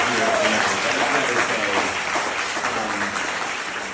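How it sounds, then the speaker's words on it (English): Audience applause from a crowd at a political gathering in New York City, a dense steady wash of clapping that runs throughout and slowly fades a little toward the end. "Actually, let's just give Jerry Nadler kind of a round of"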